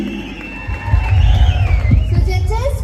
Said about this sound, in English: A big round of applause for the awaiting Miss Idukki.